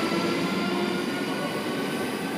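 A Southern electric train pulls into platform 17 or 18 at Clapham Junction station, a steady loud rumble of wheels and motors filling the whole stretch without pause, no voices over it.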